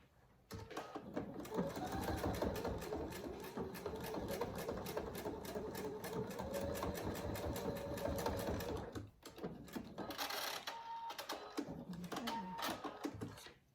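A sewing machine stitches dog collar webbing in a steady, rapid mechanical chatter that runs for about eight seconds, stops briefly, then resumes in shorter bursts.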